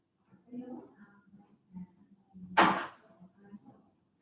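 A door closes once with a single sharp thud partway through, set between quiet room shuffling and brief murmured sounds.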